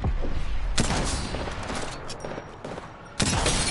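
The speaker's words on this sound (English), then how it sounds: "They're shooting me." Bursts of automatic gunfire aimed at the player in a PS5 shooter game, loud rapid volleys crackling near, easing off in the middle before another sharp burst erupts, with no talk over it.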